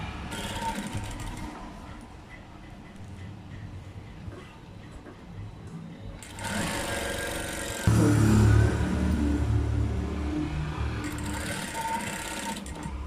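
A sewing machine stitches around a grandmother-style blouse neckline, its continuous motor whir growing louder and denser partway through, with no talking.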